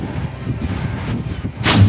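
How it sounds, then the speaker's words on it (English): Heavy wind buffeting a DJI Mini SE drone in flight, a loud, rough rumbling roar that surges throughout and swells into a stronger gust near the end. "This is heavy wind here, so we're going to get a good idea how it's buffeting around"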